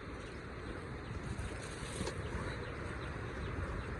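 A flooded river's rushing water makes a continuous, even roar, heard faintly and steadily from start to finish.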